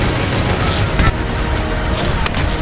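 Gunfire from the egg-themed shooter game Shell Shockers, with rapid, dense shots running continuously and loudly throughout and no pauses between them.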